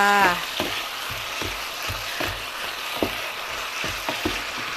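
Pork belly stir-fries with ginger in a hot pan, a dense continuous sizzle broken by regular scraping strokes of the spatula about every half second. A short tonal clatter opens it.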